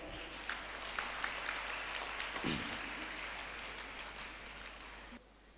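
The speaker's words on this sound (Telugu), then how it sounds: "చక్కటి చప్పట్లు కొట్టండి" A church congregation applauds at the Feast of St Anthony at St Theresa's Church, Sanathnagar, Hyderabad: steady, fairly soft applause with scattered distinct claps for about five seconds, then it drops off.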